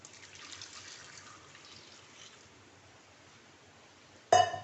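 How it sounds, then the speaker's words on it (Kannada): Water trickles and splashes faintly into a pot holding pieces of ivy gourd, a soft continuous pour that ends in a brief sharp clatter. "ಹಾಗೆ ಮುಳುಗುವಷ್ಟು ನೀರು ಹಾಕ್ಕೊಳ್ತೇನೆ"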